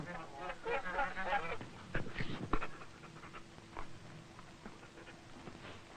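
A farm dog greets its owner returning home in a German farm town, panting and making short excited sounds with brief yelps, fairly close, while other noises mix in and no one speaks.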